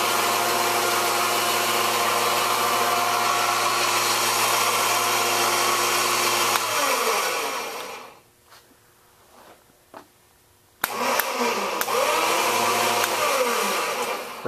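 A shop crane lifting sheet metal runs with a loud, steady motor drone, cuts out for about three seconds, then starts up again close by.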